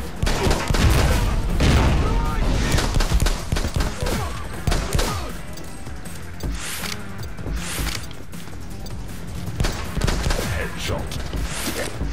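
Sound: gunfire in the video game The Club

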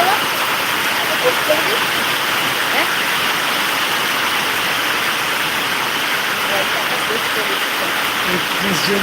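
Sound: rain falling on leaves

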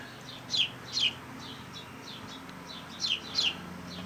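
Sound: birds chirping outdoors

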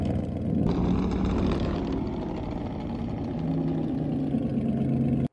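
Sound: four-wheeler engine running in video game Farming Simulator 22

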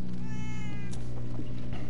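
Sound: cat meowing in Minecraft Story Mode video game

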